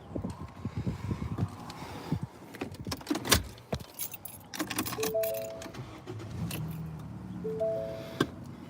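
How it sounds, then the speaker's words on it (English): Keys jangle and rattle in a quick run of bright metallic clinks as someone climbs into a car, with soft thumps and shuffling close by and no talking. "I'm gonna jump in the car here."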